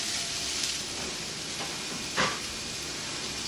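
Continuous hissing sizzle of broccoli frying in a pan for a breakfast skillet, steady and close, with a brief louder crackle near the end.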